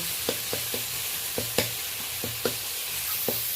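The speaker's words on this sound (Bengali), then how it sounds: "আদা বাটা দেওয়ার পরে আমি বেশ কয়েকবার ভালো করে নেড়ে নিয়েছি।" A spatula stirs ginger paste into an onion and tomato masala in a pan, making a series of sharp scraping strokes at an uneven rhythm over a low, continuous sizzle.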